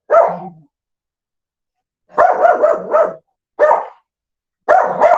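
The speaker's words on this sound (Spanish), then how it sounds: "déjenme callo a mi perro" A dog barks indoors in short bursts: one bark, a pause, then a quick cluster of several barks, another single bark and a final burst, loud and near with silence between.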